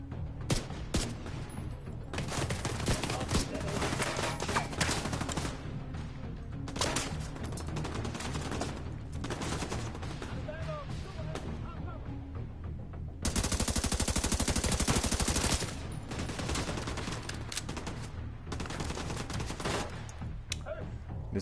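Unmodified weapon firing in the video game The Division 2, rapid bursts of automatic gunfire with short pauses between volleys and one sustained loud stretch, mixed with game background sound and no talk.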